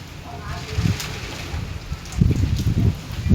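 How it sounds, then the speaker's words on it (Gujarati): Strong cyclone wind roars and buffets around a tile-roofed house in Bajud, a steady rushing blast with louder gusts near the end, while someone talks over it. "જો કેવો અવાજ આ પવનનો અવાજ આવે"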